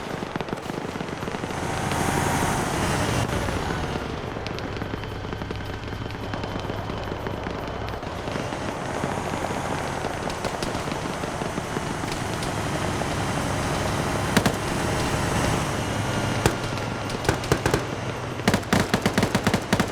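Sustained automatic gunfire and heavy weapon bursts in the military game Arma 3, including a 14.5 mm gun, loud and continuous with rapid cracks and booming impacts throughout.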